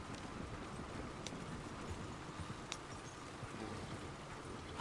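Horse hooves clip-clop along a road in the Western game Red Dead Redemption 2, a steady, fairly quiet rhythm of hoofbeats mixed into a constant dense ambient wash, with no talking.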